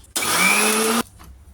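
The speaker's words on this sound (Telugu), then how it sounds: "ఇప్పుడు దీనిని మెత్తటి పేస్ట్ లాగా మిక్సీకి పట్టాలి." A kitchen mixie grinds cumin seeds, salt and green chillies into a smooth paste in one loud, steady whirring burst of about a second, starting and stopping abruptly.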